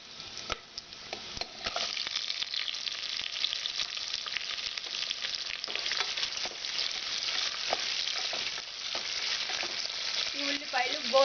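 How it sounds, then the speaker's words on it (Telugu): Thinly sliced onions frying in oil in a pan for chicken pulao, a continuous soft sizzle with occasional scrapes and taps of a stirring spoon, close and fairly quiet with no talk. "ఈ ఉల్లిపాయలు గోల్డెన్ కలర్ వచ్చేదాకా మనము ఫ్రై చేసుకోవాలి."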